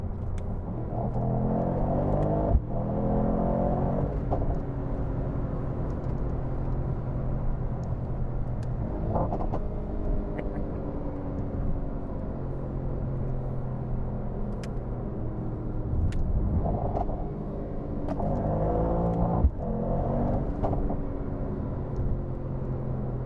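Mercedes-AMG GT63 4Matic driving with a steady engine drone, intake and exhaust note rising and falling through several revving gear pulls, moderately loud and without talk.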